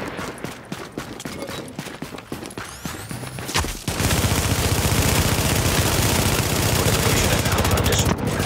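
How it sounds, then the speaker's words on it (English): Gunfire hits a fortification in a multiplayer battle game, starting as scattered shots and swelling after a few seconds into a dense, continuous barrage of rapid fire. "A fortification is now taking fire."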